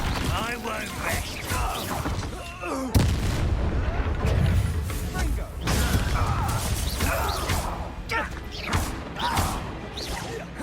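A Confringo fire-blast spell in Hogwarts Legacy: booming magical explosions and crashing impacts within a busy battle mix, with shouting voices heard over the blasts throughout.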